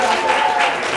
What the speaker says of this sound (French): On applaudit pour les deux joueurs, les deux équipes